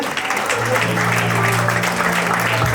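A church congregation applauds during a French-language worship service, a dense, steady clapping that fills the room throughout, with a low sustained organ or keyboard tone underneath.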